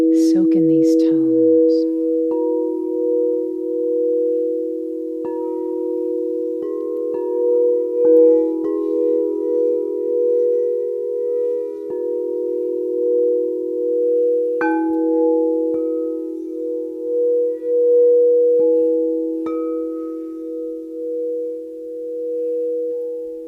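Crystal singing bowls tuned to 432 Hz ring in long, sustained overlapping tones, with fresh strikes adding bright overtones now and then over a steady, loud drone that carries through the whole stretch.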